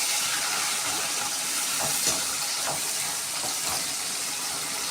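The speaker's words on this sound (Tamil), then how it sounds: "நல்லா வதக்கிக்கலாம்." Tomatoes and onions sautéing in a pan for Tamil-style potato fry, a steady close sizzle and hiss with faint stirring, no talk.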